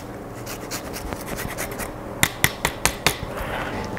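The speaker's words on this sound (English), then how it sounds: "we can just grate over some zest from the lemon" Lemon zest is grated over resting salmon in a home kitchen. It makes a steady, close scratchy rasp that ends in a run of five or six sharper, louder strokes, with no talk.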